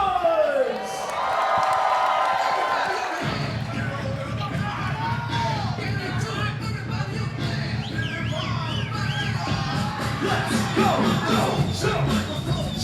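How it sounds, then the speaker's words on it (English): Crowd at a dance battle cheering, whooping and shouting, a lively mass of voices rising after a brief swell, with speech mixed in throughout. "Crowd, make some noise."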